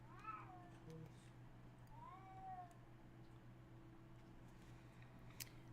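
A pet cat named Otis meows indoors, two drawn-out, fairly clear cries a couple of seconds apart, heard over a steady low hum in a quiet crafting room.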